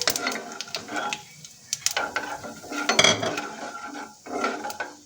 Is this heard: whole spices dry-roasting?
yes